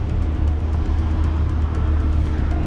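A rescue van's engine idles steadily close by, with a low continuous rumble and no voices as the vehicle pulls up and stops.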